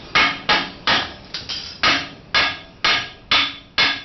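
A hammer knocks hot slag off a fresh plasma cut from a LOTOS CT520D, with about ten sharp metallic strikes at a fairly regular pace, close and loud, each ringing briefly.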